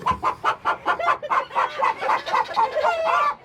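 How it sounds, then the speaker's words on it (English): A hen, one of a flock that includes black-and-gold Americanas, clucks in a steady run of about a dozen short, close calls, loud and clear with no talk over them. "There's a hen sitting."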